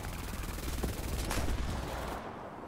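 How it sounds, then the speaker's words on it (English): Machine-gun fire striking a Stuka dive bomber in War Thunder, a dense, rapid rattle of shots close and loud over the engine roar, cutting off abruptly near the end. "I'm getting shot at from behind, too."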